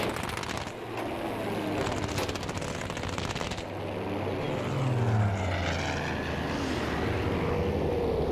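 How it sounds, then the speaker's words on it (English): A propeller warplane drones loudly overhead in Battlefield V, its engine pitch sweeping as it passes, with bursts of machine-gun fire crackling over the top. "There's a plane on my tail."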